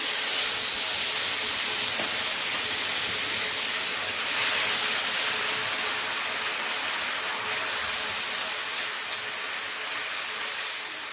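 Onion paste hitting hot oil in a pan while a Bengali katla fish curry with potato and cauliflower is being cooked, giving a loud, steady, broad hiss that holds for the whole stretch with only slight swells.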